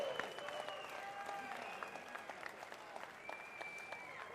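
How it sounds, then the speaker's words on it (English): Applause from spectators at a powerlifting competition, a faint, distant patter of clapping with audible whistles and cheering mixed into the hall noise. "Round of applause."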